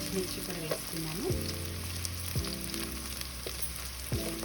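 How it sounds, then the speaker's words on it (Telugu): Small onions and green chillies frying for a Tamil Nadu style mutton curry, giving an even, continuous sizzle with a few scraping stirs and a low steady hum underneath. "ఉల్లిపాయలు మనకి బాగా ఫ్రై చేసుకున్నాము"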